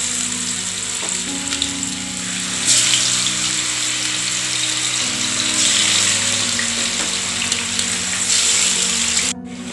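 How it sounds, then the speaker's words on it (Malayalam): Thin pieces of fish fry in coconut oil in a pan for fish pickle, giving a loud, steady sizzle with bubbling crackle and a low background hum, close up and with no talking. "ഇതിപ്പോൾ ഞാൻ വെളിച്ചെണ്ണയിലാണ് വറുത്തെടുക്കുന്നത്."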